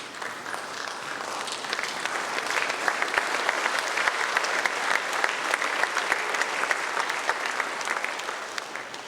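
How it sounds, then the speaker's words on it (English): A seated gathering at a tribute for the late AIGP Charles Kataratambi stands and gives sustained applause in memory of his mother and father, a dense, steady wash of many hands clapping at even loudness throughout. "to stand up in memory of his mother and father and to give them a hand"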